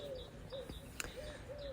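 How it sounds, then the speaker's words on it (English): Owls hooting outdoors at night, several soft repeated hoots spaced across the moment, faint and distant, with a sharp click in the middle and quiet background noise. "I think I hear owls."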